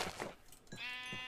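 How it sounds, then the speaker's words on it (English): Sheep in the Minecraft video game bleat in quick, quiet succession, several short nasal calls within about a second. "Oh man, there's sheep."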